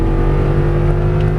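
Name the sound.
Audi R8 engine accelerating through an upshift on track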